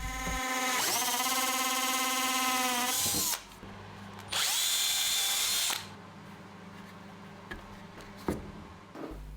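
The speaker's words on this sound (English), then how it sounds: "and then the screws driven into place" A power drill drives screws into brass inserts on a pallet-wood boot and coat rack, giving two long loud whirring bursts with shifting pitch, a short pause between, then scattered clicks and handling knocks.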